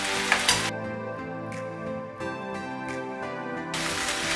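A white beans mixture with lemon and honey is stirred, with short bursts of scraping and mixing noise at the start and end and steady tonal background music throughout.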